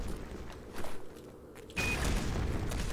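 A satchel charge detonates in Black Mesa during a rock slide ambush: a sudden loud, broadband blast about halfway through, followed by sustained rumbling debris noise, after a quieter stretch of in-game ambience and movement.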